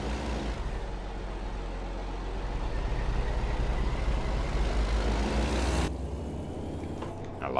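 A Kenworth K100 truck passes in American Truck Simulator near roadworks, with a loud, steady low diesel engine drone and road rumble that cuts off abruptly near the end.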